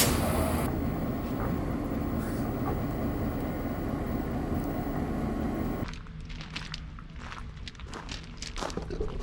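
Retired Army surplus locomotive running at a railroad museum, a steady low rumble and hiss from nearby that drops away partway through, leaving quieter irregular clattering and knocking.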